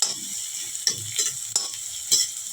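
Onions sizzle steadily in hot oil in an iron kadhai, with a few sharp scrapes of a spoon stirring them at irregular intervals; close and fairly loud, with no talking.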